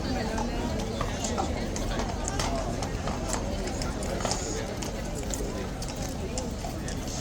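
Hooves of a guard's horse clip-clop on hard ground in quick, uneven steps as it moves out and back, with crowd murmur and someone talking over it.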